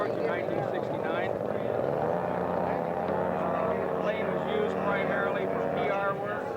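A powered scale model replica of the Automobile Association of Britain's 1954–1969 company plane flies at a scale aircraft show. Its engine gives a steady, buzzing propeller drone that holds constant throughout, with a voice talking over it.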